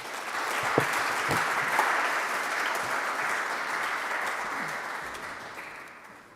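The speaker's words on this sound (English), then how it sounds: "So please applaud them" A conference audience applauds in a dense, steady wash of clapping that fills the room, holding strong before fading slightly near the end.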